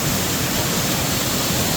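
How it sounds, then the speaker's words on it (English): Loud waterfall pounding down, heard right at the base of the falls, a dense steady roar of crashing water filling the whole moment with no pauses. "That water's just crashing down."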